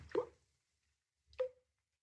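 Water drips in a room in a radio drama set in a narrow Edinburgh street. Two isolated, close plops sound about a second apart against near silence.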